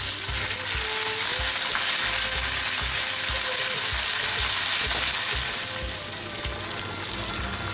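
Garlic and curry leaves fry in hot oil in a pan, a loud continuous sizzle with crackling and spattering, steady throughout with faint stirring underneath; nobody talks.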